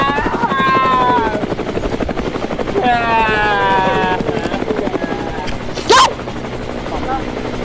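A helicopter's rotor chops steadily and loudly throughout, with people talking over it and a brief sharp noise near the end.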